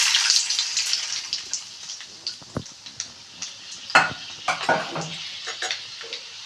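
Urad dal and lentils fry in coconut oil, a soft sizzle dotted with scattered crackling pops and a few utensil clinks, close by and unevenly paced.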